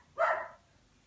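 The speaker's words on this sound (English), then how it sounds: "we will have some musical interlude by my extremely, extremely well-behaved dog" A single short bark from a dog indoors, one clear burst lasting about half a second, fairly close, followed by quiet.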